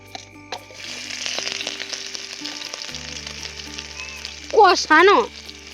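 Chicken sautéing in a pan makes a steady, moderate sizzle, with a brief melodic voice rising over it near the end.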